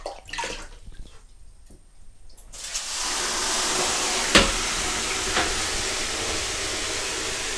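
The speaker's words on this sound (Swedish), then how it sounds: "Nu slänger vi på lite vatten." Water thrown onto a hot wood-fired sauna stove in a summer cottage sauna bursts into a loud, steady steam hiss that fills the space, after a few quieter moments of small knocks.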